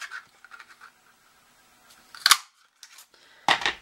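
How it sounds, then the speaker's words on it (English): A craft punch cutting butterfly shapes from designer paper, with a few sharp crunching punches, the two loudest near the end, between soft paper handling sounds. "Just punch those right out."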